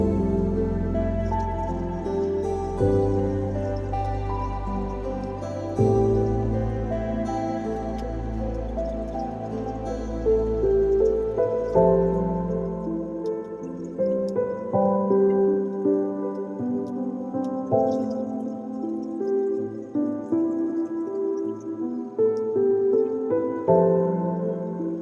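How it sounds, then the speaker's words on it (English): Fresh water poured into a planted aquarium, a steady gurgling flow that fades into softer dripping and splashing near the tank, with no talk. "Let's fill it up with fresh water again."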